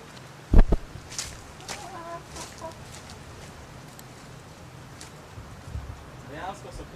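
Farm chickens cluck in short scattered bursts around a few sharp knocks, while people talk over them.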